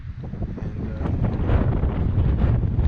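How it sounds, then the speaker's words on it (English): Strong wind gusting across a lakeside campsite in Algonquin Park, Canada, a steady rough rumble buffeting the microphone and swelling louder partway through, with no talking. "So the wind's just whipping through this campsite"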